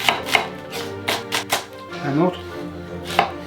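Onions are sliced with a knife on a board in a handful of irregular chops, close and distinct, while someone speaks briefly in French.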